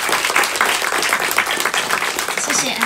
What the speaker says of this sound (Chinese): 掌声告慰各位，掌声。